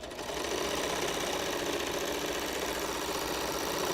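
Sewing machine stitching fabric, a fast, steady mechanical whirring and ticking held at an even level from start to finish, with no voices.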